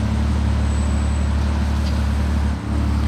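Slow-moving traffic jam of cars in Monaco, including luxury cars, with a steady low engine and road rumble close by, continuous and fairly loud throughout.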